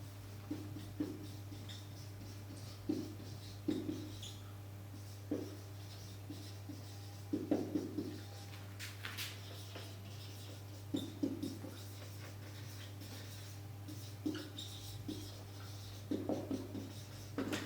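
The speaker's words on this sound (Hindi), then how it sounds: "देखो, अब लिखते हैं" Pen or chalk strokes of someone writing notes for a biology lesson on cells, short scratchy bursts repeating irregularly over a constant low electrical hum, with no talking.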